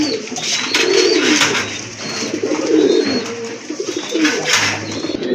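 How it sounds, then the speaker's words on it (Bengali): Red checker pigeons coo repeatedly, soft low throaty calls overlapping in a close, steady rhythm, with faint higher chirps and rustling in the background. "দেখেন কালারফুল এক জোড়া রেড চেকার কবুতর"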